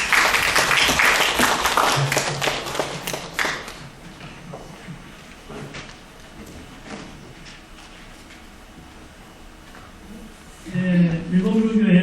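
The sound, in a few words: audience applause after a conference presentation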